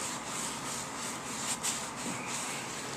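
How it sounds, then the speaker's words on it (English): Gloved hands rubbing a styrofoam board smooth for a diorama, a steady broadband rubbing hiss with brief swells, close and continuous, no talk. "Now you notice when it goes down, you just keep rubbing it in, and the little bumps that it has,"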